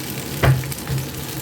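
Pointed gourd (potol) with stuffed filling hits hot oil, giving a brief burst of sizzling that settles into a steady low fry with a second small flare of crackle.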